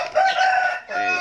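A Bangkok fighting rooster crows up close, one loud strained crow with a brief break before a final drawn-out note.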